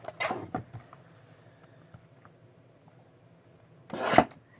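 Paper is trimmed for a scrapbook pocket with a brief rasping cut at the start and another at the end, quiet in between and close by.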